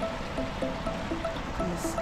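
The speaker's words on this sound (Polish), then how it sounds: "Źródło rzeki Warty" Water flows steadily from the Warta river spring at Zawiercie-Kromołów, a continuous trickling burble heard close up with no voices over it.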